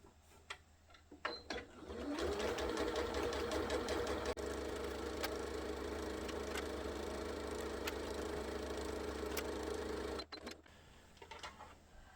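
A sewing machine runs steadily for about eight seconds while stitching a French seam on fabric for a foldaway shopping bag, a close, continuous whirring hum with a fast mechanical patter, starting and stopping with soft handling noises.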